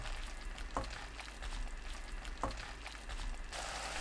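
Onions sauté in a pan with a quiet, steady sizzle, broken by two soft knocks of a utensil being stirred through.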